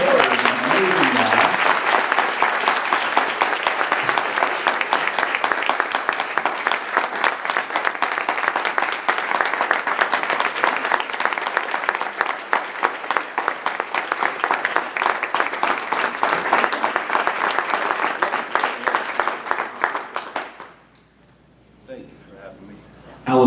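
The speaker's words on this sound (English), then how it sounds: "how about a huge round of applause for an amazing guy" Sustained audience applause at a fundraising awards conference fills the room for about twenty seconds, loud and dense with scattered cheers, then cuts off abruptly into near silence.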